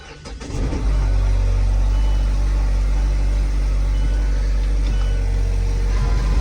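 A 2019 Kia Optima with 170,000 miles, a theft recovery, cranks briefly and fires, then settles into a steady, loud idle that holds evenly for several seconds.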